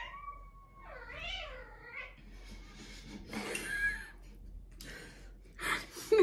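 A cat meows several times, with a long wavering, rising-and-falling call, followed by fainter breathy cries and rustling.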